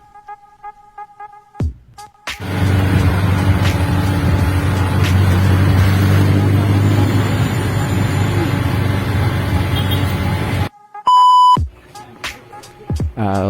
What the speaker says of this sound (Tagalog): nakasakay na tayo ng jeep, pauwi na rin